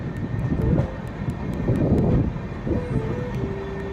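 A train rumbles steadily along the tracks, heard from aboard a passenger train running from Howrah toward Dhanbad, India: a continuous low roar with rattling carriage noise and occasional faint squeals.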